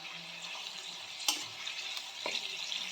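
Tomato puree and spices fry over a raised flame in a pan with a little water, a soft steady sizzle broken by a couple of brief spoon scrapes.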